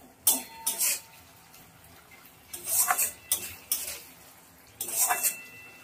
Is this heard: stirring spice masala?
yes